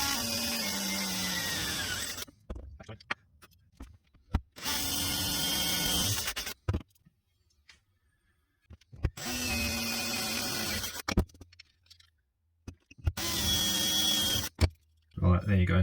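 Power drill driving fixings through a rail and backing board on a bench-top palm router table build, four short whirring bursts separated by pauses, close and fairly loud.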